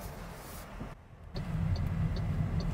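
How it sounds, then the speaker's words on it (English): An MG3 Hybrid Plus pulls away on the road with a smooth, low hum that briefly drops off and then comes back a little louder and steady, with faint ticking in the background. "let's take the MG3 Hybrid Plus for a little drive"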